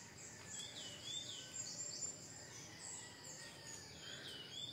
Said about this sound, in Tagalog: Maririnig nyo ang mga kanta ng mga ibon.